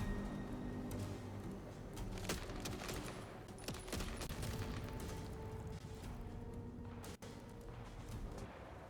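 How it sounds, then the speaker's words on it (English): Sustained gunfire in the video game Vampire: The Masquerade – Bloodlines 2, a dense, loud fusillade of overlapping shots and booms that continues almost without a break from start to end. "From where are you shooting?"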